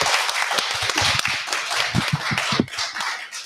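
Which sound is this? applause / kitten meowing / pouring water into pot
applause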